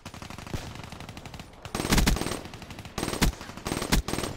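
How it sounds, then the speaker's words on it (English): Enemy gunfire in a multiplayer shooter video game: rapid automatic bursts of shots, several sustained volleys separated by brief pauses, moderately loud over a low ambient game bed. "I can hear him shooting"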